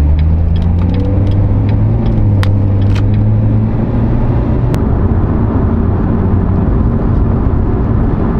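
A Corvette C7 V8 engine revs and accelerates loudly, its deep rumble rising in pitch and holding steady close by, with no voices.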